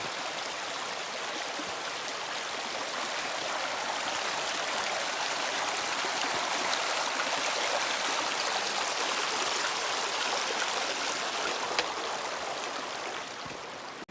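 Garden Creek and Pipe Creek water rushes and splashes continuously at a trail crossing on the Bright Angel Trail, Grand Canyon, a steady, full flowing sound up close with no voices.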